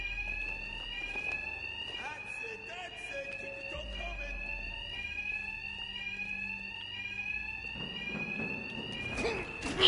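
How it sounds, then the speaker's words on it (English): A loud, steady ringing bank alarm in the video game Batman Arkham Knight, continuous warbling tones filling the scene while a voice speaks over it. "My attacks will be covered by the noise of the alarm."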